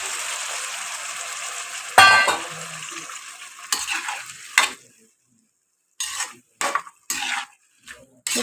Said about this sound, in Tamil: புளியை சேர்த்து நல்லா வதக்கி விட்டுருவோம்.